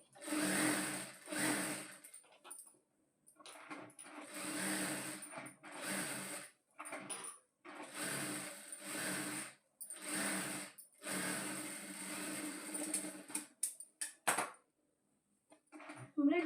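A sewing machine stitches piping onto a blouse, running in repeated mechanical bursts of rapid whirring with short pauses between runs, close and fairly loud.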